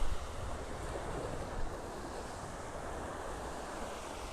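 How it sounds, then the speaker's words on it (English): Waves wash steadily onto a beach in North Naples, Florida, with a continuous soft roar of surf mixed with light wind across the microphone and no voices. "It's going to be an awesome beach day here in North Naples."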